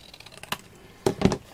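Paper is cut on a craft mat for a paper cross frame project, a few sharp close snips and clicks, a lone one first and then a quick cluster near the end.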